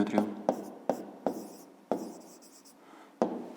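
Chalk or pen strikes a board in short, separate strokes during a fifth-grade math lesson on finding a rectangle's side from its perimeter, six or seven close scratches spaced irregularly, with no one talking over them.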